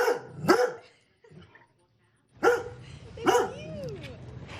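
A dog, Dougie from Komoka, barks several times in loud, sharp bursts with short pauses, then gives a rising whimpering yip, all close by.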